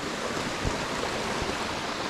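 Waterfalls and a stream in the Val Vertova canyon near Bergamo, Italy, produce a steady, full rushing roar of water, continuous and fairly close, with no voices.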